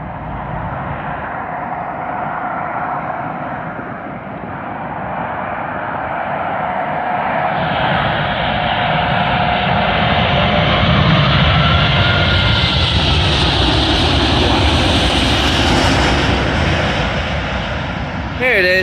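An Airbus A380 arriving at London Heathrow runway 27L from Singapore produces a loud, sustained jet roar that swells and brightens as it nears, then holds strong and close, with no spoken words.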